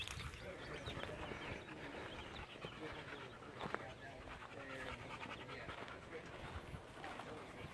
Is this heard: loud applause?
no